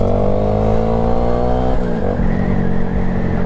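A passing vehicle that sounds like a car, likely a motorcycle such as an old Honda Grom, with a loud, steady engine drone whose pitch shifts partway through as it goes by.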